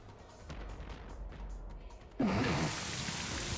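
Rain from the Rain Dance move in Pokémon Scarlet bursts in abruptly partway through as a loud, dense hiss of falling rain following quieter background game sounds.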